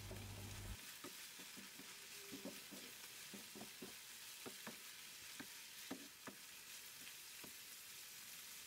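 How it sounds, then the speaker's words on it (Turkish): Food sizzles continuously in a hot pan while a utensil scrapes and taps as the vegetables are stirred. "Tüm malzemeyi kavuralım."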